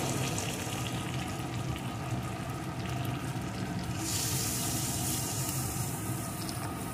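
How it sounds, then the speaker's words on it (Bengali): Hot water pours into a pan of spiced potato and cabbage curry, giving a dense, continuous, loud hiss and rush that hardly varies from start to end. "এখন এর ভিতরে দিয়ে দেবো পরিমাণ মতো জল"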